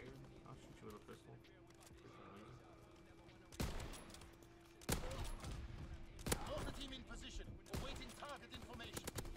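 Gunfire in the World War II shooter game Call of Duty: WWII, a few sharp pistol shots cracking out in the second half over steady game noise, with people talking throughout.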